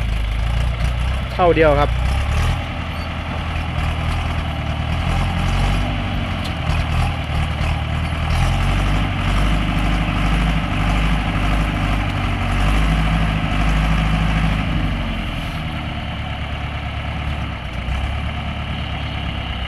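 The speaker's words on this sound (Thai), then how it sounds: "เครื่องยังแน่นอยู่นะครับนิ่งๆเลย" The engine of a log grapple truck idles steadily nearby, a loud, constant low rumble with a faint whine, briefly joined by a short rising mechanical squeal early on; someone speaks a few words over it.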